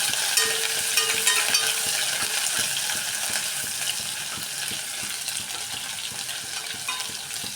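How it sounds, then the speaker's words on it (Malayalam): Crushed ginger, garlic and small shallots sauté in hot oil, giving a steady, close broadband sizzle with faint scraping stirs and small ticking clicks throughout, no voices. "പൊട്ടിക്കഴിഞ്ഞതിന് ശേഷം ഇഞ്ചി, വെളുത്തുള്ളി, ചെറിയ ഉള്ളി അതിനകത്തേക്ക് ചതച്ചിടുക. എന്നിട്ട് ജസ്റ്റ് ഒന്ന് വഴറ്റി കൊടുക്കുക."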